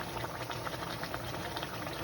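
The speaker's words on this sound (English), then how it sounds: "Then you go add more water to the pot" Water is poured into a pot of rice while making molokhia, a steady, close rushing and bubbling of liquid that runs unbroken for about two seconds with no talking.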